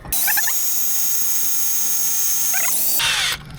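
A power drill runs at full speed, drilling out a seized wheel lock nut on a car wheel, with a loud, steady high-pitched whine and brief squealing chatter near the start and end before it stops, close up.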